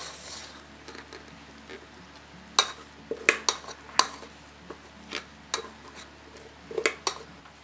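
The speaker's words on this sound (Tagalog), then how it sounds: "Hahalo na natin yung kanin malagkit natin." Toasted sticky rice being stirred in a pan: sparse, fairly quiet scraping clicks and taps of a utensil against the pan, irregular and close, over a low background hush.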